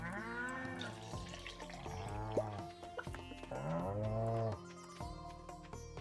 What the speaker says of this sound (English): Come here, Mr. Cow.